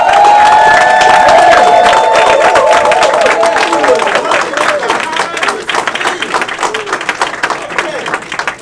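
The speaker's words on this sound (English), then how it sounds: "I want to give a round of applause to our events coordinator for this event, Torreya Hodges." A crowd at an event claps and cheers loudly for the events coordinator, with whoops and shouts over dense applause that gradually thins out toward the end, and voices mixed in.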